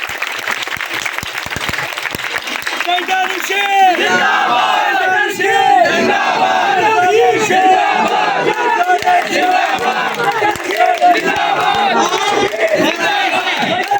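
A crowd at a Pakistani political rally bursts into loud applause with shouted cheers and chanting voices, a dense, energetic roar that continues steadily throughout.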